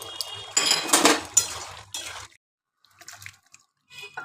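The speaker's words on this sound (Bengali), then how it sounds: "এবার আমি নামিয়ে নিচ্ছি।" A pot of potato, paneer and capsicum curry is lifted off a gas stove: metal cookware clanks and scrapes loudly up close in a short burst, followed by quieter clinks and a brief silence.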